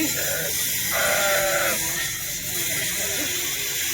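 A flock of sheep and lambs bleats repeatedly nearby, overlapping calls rising and falling over a steady background hiss.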